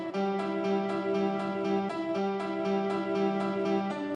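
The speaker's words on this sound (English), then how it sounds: "And then I did the exact same thing with this awesome sounding piano." A Native Instruments Ignition Keys synth piano preset plays a repeating pattern of sustained chords with rhythmic pulses, moderately quiet and clean, no voices.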